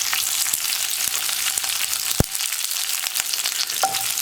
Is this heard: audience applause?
no